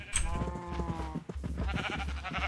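Sheep bleat in Minecraft, the modded survival video game, with one drawn-out wavering baa followed by shorter choppy bleats and clicking movement sounds, close and fairly loud, with no voices.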